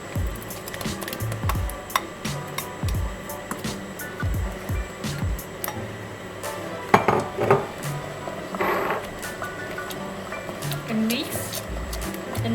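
Kitchen utensils clink and knock against a pot as coconut pandan jelly is added, scattered metallic taps and scrapes with a few sharper clinks, under speech.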